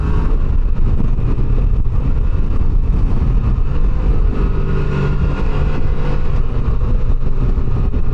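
The engine of a 2025 Can-Am Canyon runs with a steady, loud, close drone throughout, a dense rumble with no pauses and no voices.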